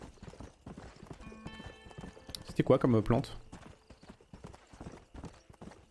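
Horse hooves clip-clop in a quick trotting rhythm in the video game Red Dead Redemption under a speaking voice, with a horse's whinny rising briefly midway.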